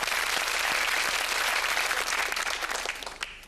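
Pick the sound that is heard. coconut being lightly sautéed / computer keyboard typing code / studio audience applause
studio audience applause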